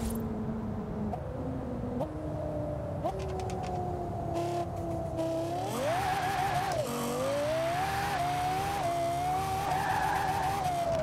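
A Lexus LFA's high-revving engine in the video game Forza Horizon 4 whines and climbs through the gears while tires squeal in a long drift, loud and close.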